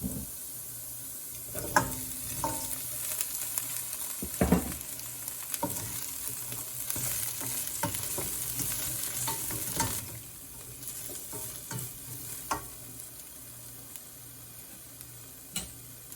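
Broccoli stems and florets stir-fry in a pan for an Indian-style dish, with a steady close sizzle broken by repeated scraping stirs and clinks from a utensil against the pan.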